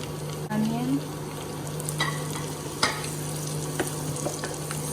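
Onion added to a pan of sizzling garlic butter, a steady frying hiss with a few utensil scrapes and small clinks over it while cooking for white sauce pasta.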